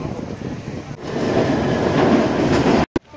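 A London Underground train running through the tunnel, a loud steady rumble with rhythmic clatter of wheels that builds and holds, then cuts out abruptly near the end.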